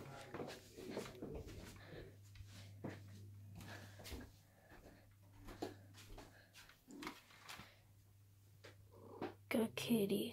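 A cat purrs in a low, steady rumble for most of the stretch, close by, with people talking over it and other noises around.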